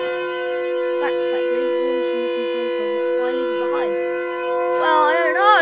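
A loud, droning siren from the game creature Siren Head holds steady wailing tones with warbling pitch sweeps, rising into a wavering blare at the end.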